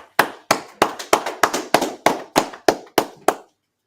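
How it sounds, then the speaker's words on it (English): A small group claps in unison at a religious class gathering, about eleven sharp, evenly spaced claps roughly every third of a second, close and loud, ending in silence. "Let's clap it up."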